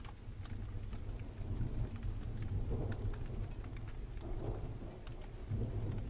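Steady rain with low rumbling thunder rolling underneath, a dense continuous wash that swells slightly at moments, with no voices present.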